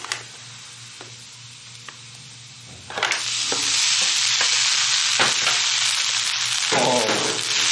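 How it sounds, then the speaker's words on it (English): Quiet ticks and scrapes, then white rice hits a hot frying pan and a loud, steady sizzle takes over, with stirring clatters throughout. "Oh, listen to that sizzle."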